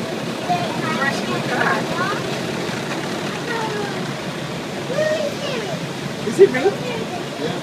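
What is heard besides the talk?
bus car wash spraying water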